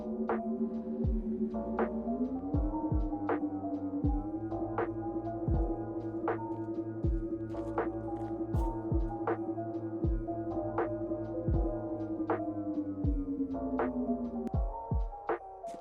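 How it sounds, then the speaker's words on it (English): A futuristic hovercar in a Roblox game gives off a steady synthetic hum with a slowly wavering tone, overlaid by repeated sharp clicks and low thumps at an irregular pace, close and alone without any voices. "After adding a futuristic humming sound, here's the basic mock-up of the car."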